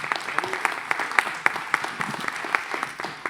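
Applause from an audience at a French conference on AI, digital technology and ethics: a brief burst of scattered clapping, individual claps distinct and moderately close, continuing for a few seconds.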